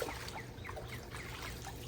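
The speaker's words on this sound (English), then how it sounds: "It catches what you need to by just dipping it into the water" A wide pool skimming net dips into backyard pool water, giving a soft continuous trickling and sloshing of water close by, steady for a couple of seconds with no talk.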